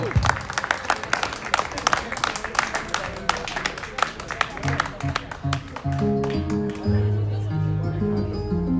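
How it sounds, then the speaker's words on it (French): An audience claps loudly and continuously, and music rises as the applause thins toward the end. "On l'applaudit très très fort."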